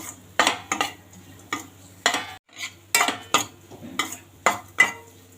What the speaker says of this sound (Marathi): हे पण आपल्याला छान परतून घ्यायचं आहे तुपामध्ये